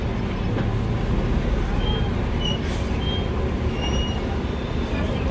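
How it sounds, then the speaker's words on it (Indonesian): Buses idling and moving at Pondok Pinang bus terminal, giving a loud continuous engine rumble and traffic din with faint high squeals and hiss, and a voice speaking under the noise. "Ini kumpulan bus legend ini."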